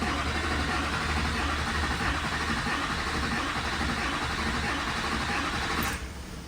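A Silverado 6.6 LBZ Duramax diesel cranks over continuously with a steady, buzzing, even starter whir that does not catch, then cuts off abruptly near the end.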